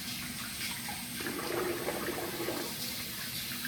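Tap water runs steadily into a sink to wet the face during a wet shave, a constant soft rushing wash at low level with no voices.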